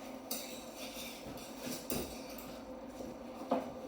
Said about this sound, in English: We're going to crank the heat up and just give them a mix round with our spoon.